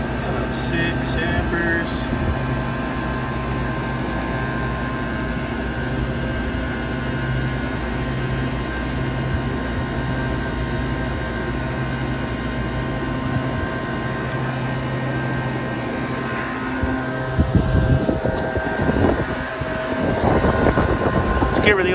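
An air conditioning condensing unit runs with a steady mechanical hum and tonal drone, shifting near the end as the machine changes state, while someone talks nearby.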